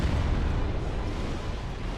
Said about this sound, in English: you see it comes with an explosion. So I'm going to hit him with an explosion of my own